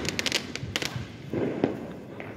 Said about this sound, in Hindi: बड़ा बड़ा धमाका छुटा है, धमाका फटाका छुटा है यहाँ पे